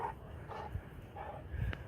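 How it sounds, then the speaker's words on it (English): A dog barks repeatedly at a moderate distance, short gruff barks spaced about half a second apart, with faint whimpering. "Barking like something's out there."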